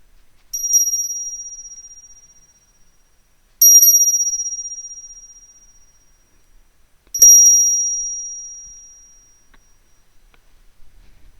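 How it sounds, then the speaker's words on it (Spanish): Three clear, high bell dings spaced a few seconds apart, each ringing out and fading slowly in otherwise quiet surroundings, during a tarot reading. "deja que el sonido de esta campana limpie tu energía"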